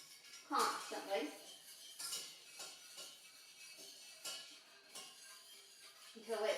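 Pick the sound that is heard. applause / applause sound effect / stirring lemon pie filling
stirring lemon pie filling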